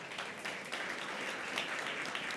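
An audience at a Stop Food Waste Day conference applauds a co-founder taking the stage, a steady, fairly faint crowd clapping with no pauses, heard alone.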